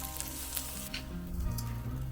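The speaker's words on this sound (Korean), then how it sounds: "지글지글지글지글" Steady crackling sizzle of lamb chops frying in a hot pan, continuous and close, with some low background hum.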